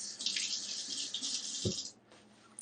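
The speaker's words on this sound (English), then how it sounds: "Let me rinse this one off." Faucet water running into a kitchen sink while a cheesecake pan is rinsed, a close steady splashing stream that cuts off near the end, followed by a faint clatter.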